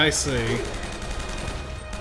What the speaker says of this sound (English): You need M4 ammo to fire the M4.